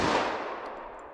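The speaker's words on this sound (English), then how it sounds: "Now let's hit that with our 45 ACP plus P" A short-barrel pistol fires a single .45 ACP+P Remington Golden Saber round outdoors, heard as a loud, sharp blast that fades quickly over about a second.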